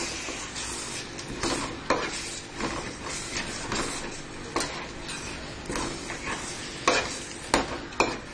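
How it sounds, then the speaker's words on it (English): Coriander and mint leaf paste being stirred into sizzling masala in a pan, with a steady frying hiss and repeated scraping, clinking strokes of a spoon against the pot at close range, and no talking. "So I will put this paste of coriander and mint leaves. And again mix it well."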